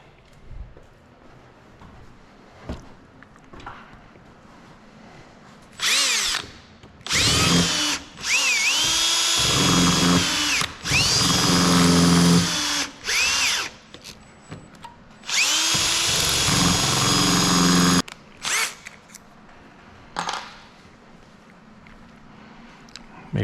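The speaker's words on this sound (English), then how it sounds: "We're drilling it." A power drill bores into a stuck bolt head in repeated bursts of whining, grinding drilling that start and stop with short pauses between, loud and close.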